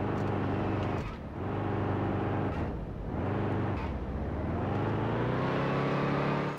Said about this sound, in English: let's just try to do some burnouts here